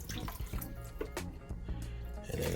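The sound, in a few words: pouring beef broth into a pan of oxtails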